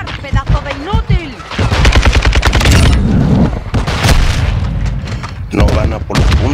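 RPK machine gun in Call of Duty Modern Warfare 2 firing loud, close bursts of rapid shots between booms, with someone shouting excitedly over and between the gunfire.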